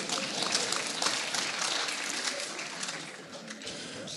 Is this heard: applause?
yes